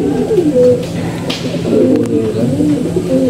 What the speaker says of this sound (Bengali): এখানে বড় যে কবুতরগুলো আছে সবগুলো আমার সাথে একটা কবুতর বাদে।